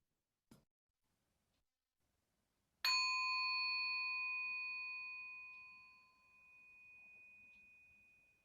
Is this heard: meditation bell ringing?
yes